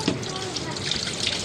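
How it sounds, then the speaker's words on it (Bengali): Water splashes and runs steadily as rice is rinsed in a cooking pot, held in one hand, at close range, with a brief clatter at the start. "এক হাতে মোবাইল ধরে ভাতের চালটা ধুইতেছি"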